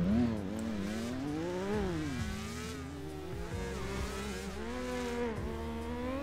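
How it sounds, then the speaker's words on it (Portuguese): Motorcycle accelerating in GTA roleplay: a loud, close engine whose pitch climbs and drops repeatedly with each rev, holding steady throughout with no speech. "O Pedrinho tá vindo acelerando"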